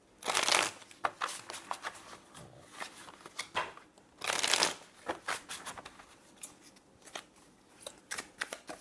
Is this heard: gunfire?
no